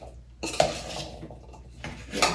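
Chickpea crisp ingredients being stirred in a bowl with a utensil, giving clinking and scraping of metal against the dish in a short burst, with a louder clack near the start and another scrape at the end.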